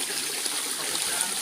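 Steady broadband rush of water pouring down a roughly four-metre cliff at a waterfall by a temple in Na Tan subdistrict, a continuous close wash with no talk over it.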